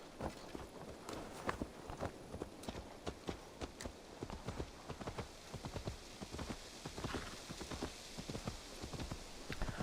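Steady clip-clop of horse hooves under a rider in the Assassin's Creed Valhalla video game, a quick, continuous trotting rhythm with a soft rain-like wash behind it, no talk.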